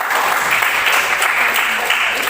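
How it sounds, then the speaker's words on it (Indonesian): A classroom group claps in a steady, dense burst of applause, loud and close, sustained evenly for a couple of seconds with no talking over it. "Oke, tepuk tangan dulu untuk Almandi"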